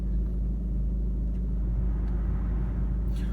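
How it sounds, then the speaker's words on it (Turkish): Parked car's engine idling right after being started, a steady low rumble with vibration, close and continuous without speech. "arabayı çalıştırdım bu arada. Titreşim ondan geliyor."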